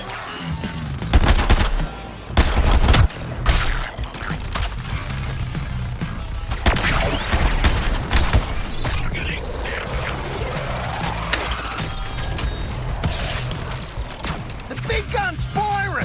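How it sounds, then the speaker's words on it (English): Heavy gunfire from a big gun in Suicide Squad: Kill the Justice League, sustained bursts and crashing impacts in dense game combat, loud throughout with voices in between. "The big gun's firing!"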